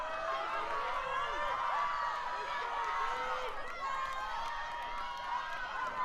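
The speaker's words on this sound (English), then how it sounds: "And you can hear the crowd." Spectators cheer at a rowing race, a sustained wash of distant shouting and whooping voices with wavering calls, steady and moderately loud throughout.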